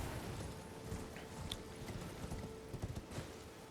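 Horse hooves clip-clopping at a steady trot in the fantasy game Elden Ring, faint and close, with a few sharper hoof strikes near the end.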